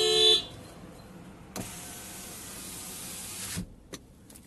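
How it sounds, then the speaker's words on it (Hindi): A short, loud horn beep from a 2023 Tata Punch Adventure right at the start, then a long steady hiss and a couple of faint clicks and thumps inside the car. "इसमें आपको कुछ इस तरह का हॉर्न मिलेगा।"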